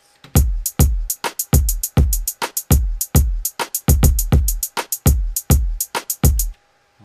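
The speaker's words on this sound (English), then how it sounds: "then I've got my basic dancehall pattern." A sparse dancehall drum pattern of punchy kicks and sharp snare-like hits in a bouncy, syncopated rhythm, loud and dry with no voices.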